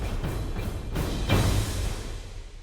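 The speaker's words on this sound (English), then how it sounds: "it has like cymbals and huge hits," Epic cinematic orchestral percussion patch with cymbals, huge hits and anvils: a few heavy booming impacts with bright cymbal wash, layered over a sustained low rumble, loud and close, no voices.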